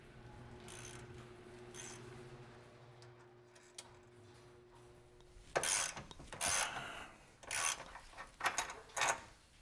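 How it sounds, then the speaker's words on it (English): A 13mm socket on a ratchet backs out the front sway bar bolts from the subframe of an MK8 Volkswagen GTI in a home garage, giving quick bursts of close mechanical clicking and clatter after a stretch of low steady hum. "Use the 13mm socket to remove the sway bar bolts from the subframe"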